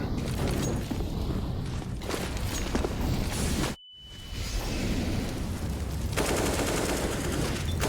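Gunfire rattles through a Counter-Strike esports match: dense, close bursts of rifle shots that stop for a brief silent gap, then resume as rapid volleys with no voices heard.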